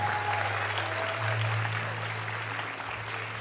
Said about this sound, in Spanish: Vamos a alguien que le dé un aplauso al Señor